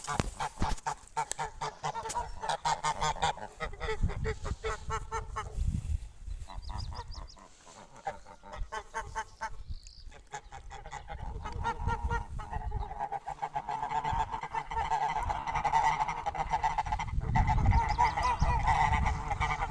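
A flock of geese in a farmyard honks nearly nonstop, many loud, close overlapping calls forming a dense chorus that swells toward the end.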